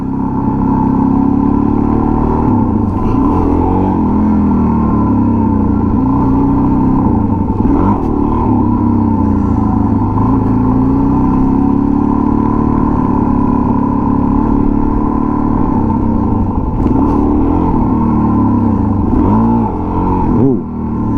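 A motorcycle engine held at a steady loud drone during wheelie practice, with several brief throttle blips that dip and rise in pitch, close and continuous throughout.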